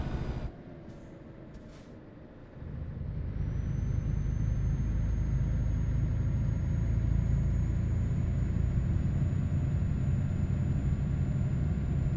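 A Scania V8 truck engine with a 12+2 Scania gearbox in a truck simulator with Promods, a low steady rumble that steps up in loudness after a hiss of air and then drones evenly with a faint high whine.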